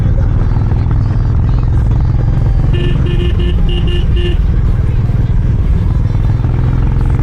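A Harley-Davidson X440 motorcycle under way at speed gives a loud, steady low engine drone with rushing wind, joined midway by a short run of horn toots from nearby traffic, and a voice talks over it.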